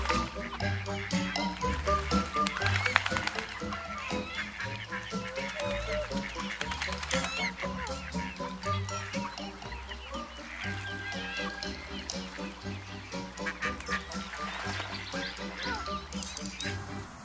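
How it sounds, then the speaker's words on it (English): Ducks quacking at a pond where bread is thrown to them, a busy chorus of overlapping calls running steadily throughout, with a low rhythmic background sound underneath. "Throwing bread to ducks was always fun for my kids"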